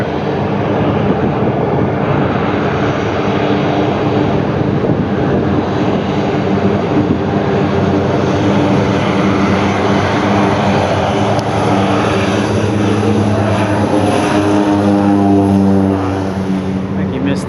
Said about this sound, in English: Planes everywhere.